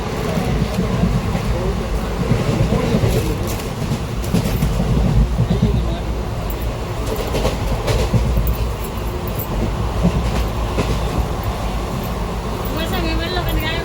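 A Hyderabad superfast express with ICF coaches running at speed, a dense continuous rumble and rattle of wheels and carriages, heard from inside, with voices talking faintly beneath.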